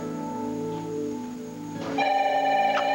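A telephone in an office rings, an electronic ring tone that starts partway through over a steady background hum, moderately loud and close with no talking.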